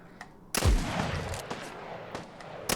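Police pistol fired in the game Fallout 4 with a mod, one sharp loud shot followed by a few fainter distant cracks of combat, with brief talk nearby.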